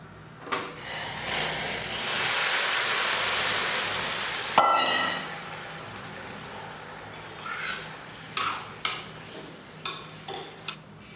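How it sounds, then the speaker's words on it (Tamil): Boiling water is poured onto roasted vermicelli in a pan for semiya kesari, a loud hissing rush for several seconds that settles into a bubbling simmer, then a few sharp clinks from stirring. "இப்போ இந்த கொதிக்கிற தண்ணியை எடுத்து இதில் ஊற்றலாம்."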